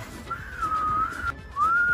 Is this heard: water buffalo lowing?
no